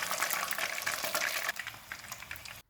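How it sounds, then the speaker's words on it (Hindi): Chicken wontons frying in hot oil, a bright steady sizzle and crackle close up that softens halfway through, then stops abruptly. "इसी तरह से हम बाकी भी फ्राई कर लेंगे।"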